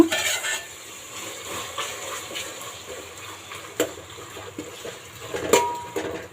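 Ginger-garlic paste being stirred into biryani masala in a pot, a steady soft scraping and clinking of a spoon against metal over a faint sizzle.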